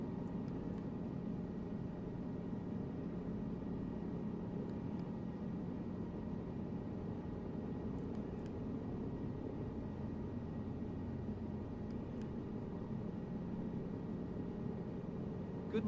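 A helicopter flies in the game Microsoft Flight Simulator 2024, making a continuous, even engine and rotor drone that holds steady throughout with no pauses.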